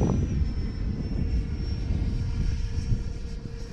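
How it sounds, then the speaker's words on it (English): An X-Fly Sirius RC model jet flies with a steady, loud turbine drone and a thin high whine running throughout, with no voices. "Oh man, what a beautiful jet."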